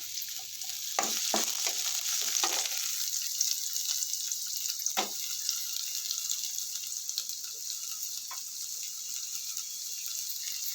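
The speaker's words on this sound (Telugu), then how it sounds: "ఆయిల్ వేసుకుని మనం సన్నగా కట్ చేసి పెట్టుకున్న ఉల్లిపాయ ముక్కలు ఇందులో వేసేసుకున్నామండి" Thinly sliced onions fry in about a tablespoon of hot oil for a bitter gourd (kakarakaya) onion fry, a constant bright hiss with a few knocks of a spoon against the pan early on.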